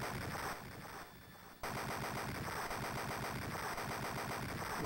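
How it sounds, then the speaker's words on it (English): Dense, rapid bursts of gunfire from a tank in the 16-bit TurboGrafx-16 shooter Soldier Blade, a near-continuous machine-gun-like rattle that drops briefly before resuming loud and steady. "Oh, here comes a tank."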